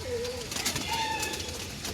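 Pigeons kept by a fancier coo softly up close, a couple of brief rising calls over a light background murmur, with no voices.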